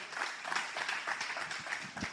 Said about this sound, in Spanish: Alguien dele un aplauso a Dios.